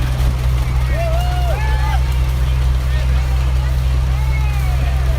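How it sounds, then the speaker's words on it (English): A 1950 John Deere A tractor rolls past in a small-town summerfest parade, its engine a steady low drone close by that holds level throughout, with faint whistling tones drifting over it. "That's Joe Barshinger's 1950 John Deere A."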